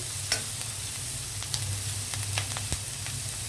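Onions frying in a pan for a millet khichdi give off a steady, close crackling sizzle with small pops scattered throughout over a low background hum, and no voices.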